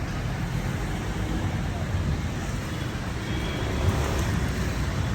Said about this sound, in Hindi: And traffic.